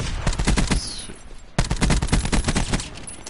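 Rapid bursts of gunfire from shooting enemies in a video game, dense automatic volleys that pause briefly and then resume, loud and close, with no talking.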